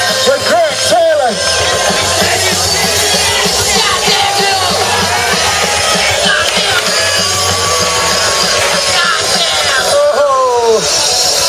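Spectators at a skatepark bowl contest cheer for skater Pedro Barros. Loud continuous yelling and whooping fills the whole stretch, with an announcer's voice and crowd babble mixed in.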